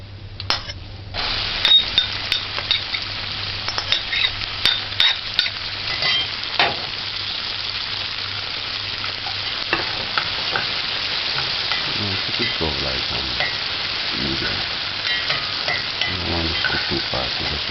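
Onions drop into a hot pan for Jamaican-style spaghetti meatballs and start sizzling. A few clinks and stirring scrapes come first, then a loud, steady frying hiss continues, close and without speech.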